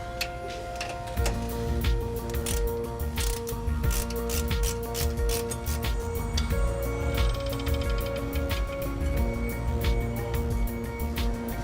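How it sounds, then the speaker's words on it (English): A ratchet clicks repeatedly while undoing the sway bar link bolts on a Landcruiser 200 Series, rapid metallic ticks and clinks close up over a steady background hum. "just going to undo the two bolts here that hold the sway bar link on into place"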